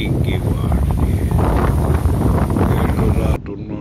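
Strong wind buffeting the microphone on a wintry shore where paragliders fly, a loud, continuous roaring rush with low rumble that drops abruptly near the end.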